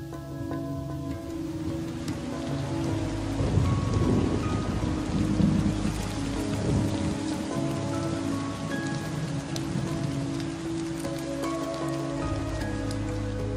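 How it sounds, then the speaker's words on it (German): Rainy-season rain falls in Komodo National Park, a steady loud downpour that rises partway through, with low rolling thunder underneath and no talking. "Im Dezember beginnt die Regenzeit im Komodo-Nationalpark."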